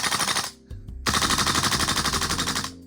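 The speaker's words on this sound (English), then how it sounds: "That was the 5th and 6th time I'd done bursts like that on that mag of gas." A VFC M16 gas blowback airsoft rifle fires two loud, rapid bursts of clacking shots close by, split by a short pause, with no talking.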